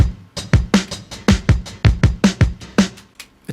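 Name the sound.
two overlapping copies of a drum loop playing together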